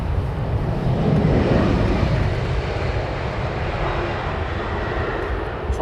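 Air France airliner on final approach to Heathrow runway 27R, a steady broad jet-engine roar swelling slightly then holding, moderately loud and unbroken with wind rumble.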